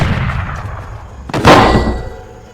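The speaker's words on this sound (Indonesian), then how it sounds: "Flynn muncul kembali dengan senapan dan langsung menembak ke arah mereka" A rifle fires in a film scene with a loud, sharp crack that rings out after a rumbling buildup, then decays slowly.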